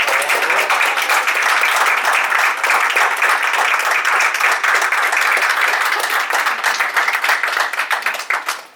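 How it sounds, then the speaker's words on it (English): Loud, close audience applause at the end of a talk, a dense continuous patter of many hands clapping that holds steady for several seconds before trailing off at the end. "let's give a round of applause and thank you"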